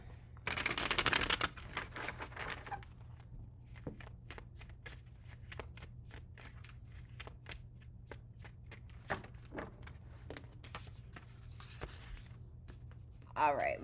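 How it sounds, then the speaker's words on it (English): Tarot cards are shuffled by hand in a quick riffling burst, followed by softer intermittent flicks and taps of the deck, close and fairly quiet. "All right, last shuffle."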